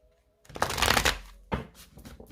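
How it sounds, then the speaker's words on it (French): Tarot cards riffle and slap down in a close, brisk flurry of shuffling, then a second sharper burst as cards are laid out, with no voices. "on va poser les cartes de votre autre"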